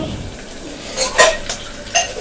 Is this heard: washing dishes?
yes